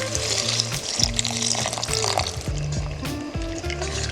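Stock poured into a soup pot of rice and mushrooms for wild rice soup: a few seconds of continuous splashing, gurgling liquid, fairly close and moderately loud.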